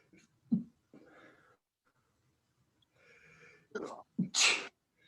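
A sharp sneeze bursts out near the end, preceded by a quick inhale, with a few quiet breaths and soft voice fragments earlier, during an exercise class.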